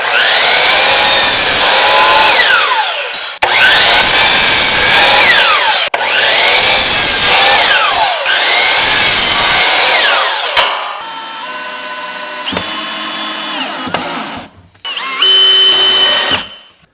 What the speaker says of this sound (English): we'll cut a piece and basically screw it all together